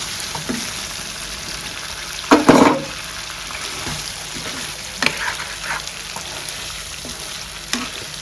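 Chicken fry sizzles steadily in a pan with green chillies and onions, a close, constant frying hiss broken by a few clattering stirs, with no one speaking.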